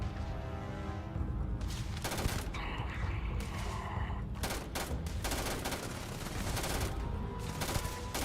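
Sustained gunfire in the video game Starfield, rapid overlapping shots and bursts firing almost continuously with dense, heavy impacts and no talking.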